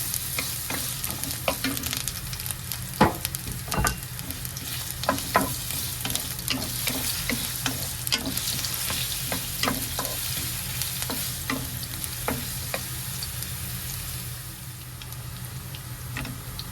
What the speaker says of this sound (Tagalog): Una nating igisa ay ang luya.